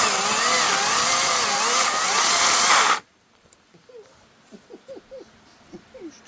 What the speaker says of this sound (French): on va commencer avec un coup de scie mécanique avec l'élagueuse